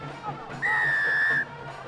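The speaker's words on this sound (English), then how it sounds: "blow the whistle for the second half to be kicked off" A referee's whistle blows one long, clear, steady blast to restart the second half of a schools rugby league match, ringing over a low crowd murmur that continues before and after it.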